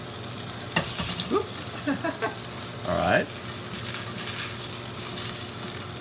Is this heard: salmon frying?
yes